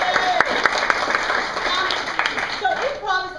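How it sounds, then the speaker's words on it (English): An audience at an improv comedy show applauds: a moderate wash of clapping with a few sharper claps standing out, mixed with voices talking over it, before it thins toward the end. "Give us applause"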